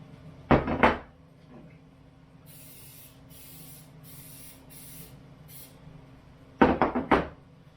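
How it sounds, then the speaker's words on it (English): A few short hissing bursts of coconut oil aerosol spray onto baking pans, close by, with quiet gaps between them, framed by louder clattering knocks at the start and end. "I'm going to spray the pans with that"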